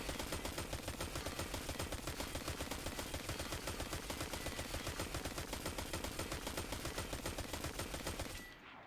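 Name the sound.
Horror Story gun firing in a video game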